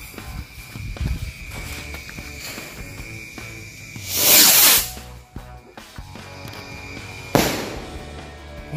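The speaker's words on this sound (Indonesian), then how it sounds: "Dari mercon luncur jumbo." A jumbo launching firecracker goes off, a loud rushing whoosh as it fires upward, followed by scattered crackles and a second sharp burst, with quieter fizzing and handling noise between, outdoors at close range.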